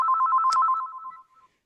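A telephone rings with a rapid trilling electronic bell, one ring burst that trails off after about a second, loud and close with no talk over it.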